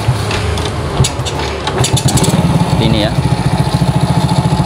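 A Honda Grand motorcycle engine is cranked on the starter during an electrical charging-system check and catches, settling into a steady rhythmic idle; someone speaks briefly over the start.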